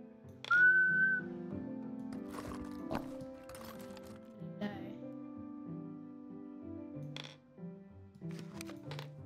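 A short whistle note sounds near the start in the puzzle video game A Little to the Left, followed by light clicks, taps and soft tonal game sounds scattered over a quiet background.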